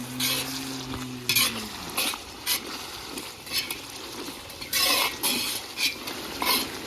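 Bhandara-style potato curry with green chilies and ginger strips, made without garlic or onion, is stirred in a sizzling pan, with repeated scraping strokes of a spoon over a steady frying hiss and no talking.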